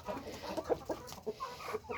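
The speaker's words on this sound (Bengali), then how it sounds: "এই লাল মুরগির পেট তলে দেখতো দেখতো পলাশ" A red hen among fancy backyard chickens during egg-laying clucks in short, repeated bursts, close by and fairly soft, with a steady low background murmur.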